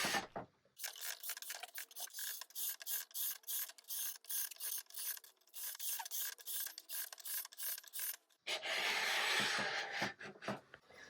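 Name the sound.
steel wool rubbing varnish off a wooden chair seat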